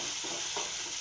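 Onions fry in hot oil, giving a brief, steady, close hiss of sizzling with no voices.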